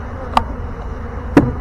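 Honey bees from a swarm give a steady low buzz close by, punctuated by two sharp knocks or taps about a second apart.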